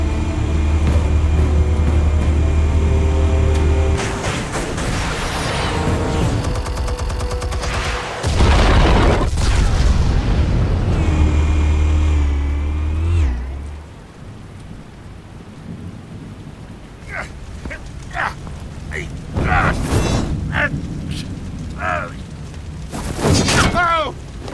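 Explosives detonating in Batman: The Telltale Series, heavy rumbling booms and roaring blasts over a dramatic score, with crackling debris and further bursts later, voices briefly heard among them.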